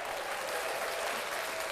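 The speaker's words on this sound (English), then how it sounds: "Let's clap that up." Audience applause on a sports podcast set, a dense, steady wash of many hands clapping at once, close and loud, with no voices over it.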